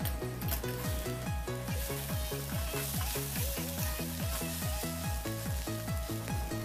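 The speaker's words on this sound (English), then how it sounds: "Fry it for 2 minutes. Low flame." Tindora sizzles in a pan over a low flame with a soft, continuous fry crackle and a faint regular rhythmic pattern underneath, with no voices.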